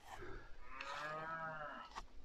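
A cow in a field beside the graveyard of Tullynakill Church, County Down, gives one drawn-out, fairly close moo that rises and falls over about two seconds, heard alone.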